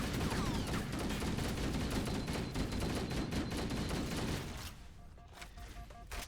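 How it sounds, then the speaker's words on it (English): Assault rifle in Halo: Combat Evolved fired in rapid short bursts, a dense chatter of shots over a booming low rumble that keeps going for several seconds, then cuts off into quieter game ambience. "The reason why I shoot the assault rifle in little bursts like that, because it makes it a little bit more accurate."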